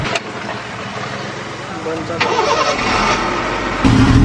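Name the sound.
Honda City car engine starting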